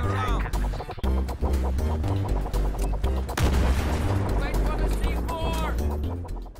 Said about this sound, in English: Let's dive straight into some Battlefield 3 sneakery this week as barbaricmustard causes some serious grief with an explosive or two.